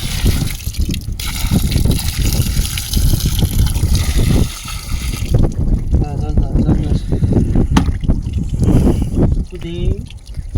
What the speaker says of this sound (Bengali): এই দেখুন ধোয়ার পর্ব চলছে, কাদা জল বেরোচ্ছে কীভাবে দেখুন।